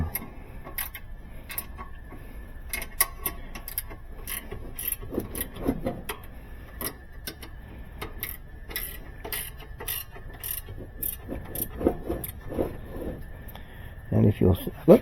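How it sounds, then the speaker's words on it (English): A 3/8 wrench ratchets while tightening nuts on a GE washer, giving a string of close, light clicks in short bursts under quiet talk. "Get our 3/8 wrench out and put the tight on it"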